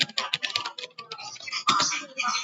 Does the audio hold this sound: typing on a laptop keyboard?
yes